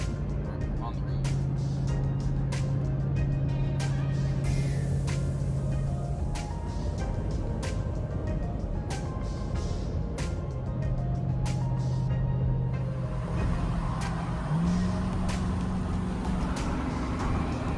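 A vehicle drives along the road with a steady, loud rumble of tyres and engine heard from inside the cab, plus a low droning hum and scattered light rattles throughout.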